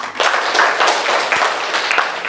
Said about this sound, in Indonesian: Tepuk tangan dulu buat Dita